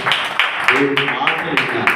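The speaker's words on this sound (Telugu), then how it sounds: "చప్పట్లు కూడా ఒకసారి" A church congregation gives brief rhythmic applause during a Sunday service, the sharp even claps sounding over a voice that keeps speaking.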